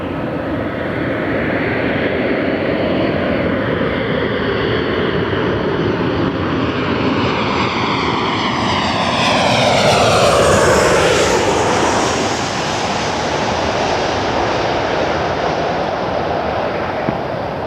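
At Los Angeles International Airport at night, a jet airliner roars loudly and continuously for well over fifteen seconds, its pitch sweeping and swelling toward the middle as it passes close by; no talking.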